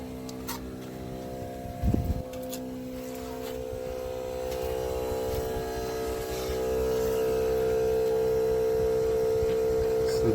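An air compressor inflates the Airlift suspension air bags on a 2017-or-newer Super Duty truck with a steady low droning hum that grows slightly louder partway through, heard alone with a brief knock early on.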